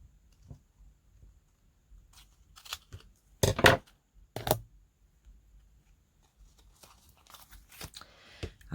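Scissors cut craft tags down. A few sharp snips and crisp paper rustles stand apart in near silence, with two louder cuts close together in the middle.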